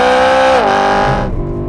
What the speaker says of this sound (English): You can see there the ferocity of that upshift